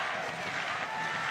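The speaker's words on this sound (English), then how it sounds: "Nearly the entire stadium clapping right now." Stadium crowd clapping at a Tampa Bay Rowdies versus Miami FC soccer match, a dense continuous wash of applause from a large distant crowd, steady in level for the brief moment.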